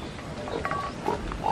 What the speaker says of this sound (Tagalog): Yung itim na baboy.